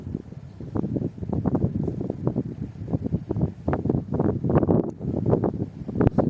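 Wind gusts over the microphone on a boat during a fishing trip, a steady, rough low rumble with repeated buffeting bursts throughout.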